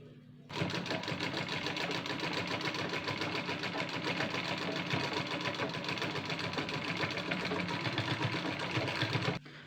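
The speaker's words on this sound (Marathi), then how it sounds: "अशा पद्धतीने फोल्ड करून घ्यायचं आहे आणि शिलाई मारून घ्यायची आहे" A sewing machine runs steadily for about nine seconds, stitching a folded seam along the back part of a garment, with a continuous close, even mechanical whir and no talking.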